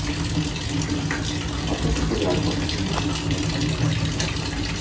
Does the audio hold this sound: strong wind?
no